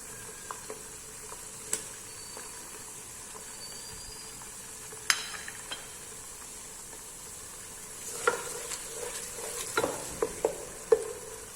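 Chopped tomato goes into masala frying in a pan for matar pulao, a quiet steady sizzle with a few sharp clicks and a livelier patch of stirring and spattering toward the end, close and without talk.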